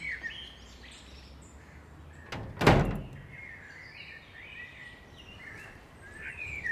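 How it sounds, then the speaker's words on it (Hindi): A door in a Pakistani drama home gives one sharp thud as it opens, standing out midway through quiet room tone with faint birdsong in the background. "आ जाओ रफीकन, खुला दरवाजा"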